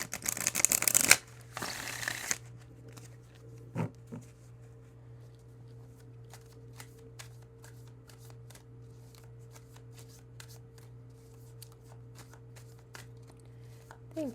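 Oracle cards being shuffled for a healing-card draw, a loud riffling burst in the first two seconds, then quiet with faint taps and a steady low hum underneath, close and with no talking.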